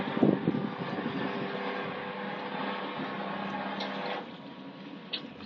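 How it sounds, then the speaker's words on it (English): A sailboat's inboard engine is started and settles into a steady, muffled mechanical drone that runs close by, with a brief knock near the start and a drop in level toward the end. "this is starting the engine"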